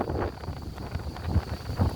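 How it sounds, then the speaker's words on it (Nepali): Strong stormy wind roars and buffets the microphone at an outdoor picnic where meat was being cooked, a steady loud rumble with heavier gusts near the end. "यहाँ डेन्जर हावाहुरी लाग्यो यार"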